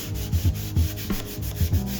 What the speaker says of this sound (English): After the primer has dried, I do a quick sanding.